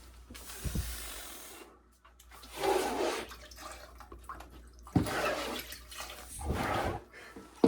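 Water being squeegeed out of a shower at a family lodge: wet swishing and splashing strokes in irregular bursts, fairly quiet and close, with brief pauses between pushes.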